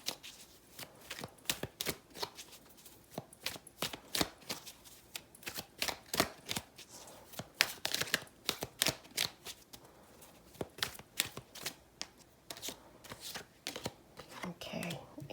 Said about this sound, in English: I'm going to give these a quick shuffle